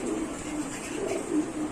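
Satin pigeons, a large fancy breed kept in a pair, give soft repeated coos in a low steady rhythm, close by and alone with no talk.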